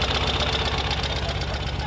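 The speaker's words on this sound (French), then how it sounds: "Donc on met de l'essence, moteur allumé." A sidecar motorcycle engine idles steadily and loudly throughout, a close, continuous low rumble with a fast uneven pulse, kept running during refuelling.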